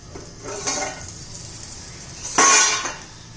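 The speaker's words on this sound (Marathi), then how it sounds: "आपण आता झाकण काढून पाहूया" A metal lid is lifted off a pan of bitter gourd slices cooking on low heat, giving a bright clink and rattle near the end after a softer scrape earlier, close and clear with no talk.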